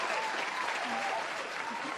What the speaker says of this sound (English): let me get your applause